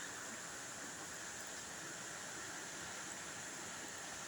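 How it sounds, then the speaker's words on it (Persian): A river runs below a building on a rainy, windy, misty day, a steady broadband rush of flowing water and wind with no breaks, distant and faint, with no voices. "این رودخونه ایه که پایین دست ساختمونه"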